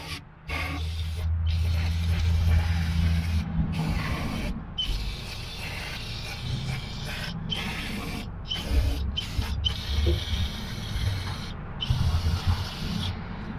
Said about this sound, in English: I'm gonna spend a few cans of brake cleaner and clean this all in there